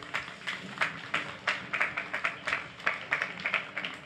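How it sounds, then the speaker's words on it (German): Audience applause after a German commemorative talk event, a steady patter of many hands clapping with a rhythmic pulse, moderately close, no voices over it. "Großen Applaus."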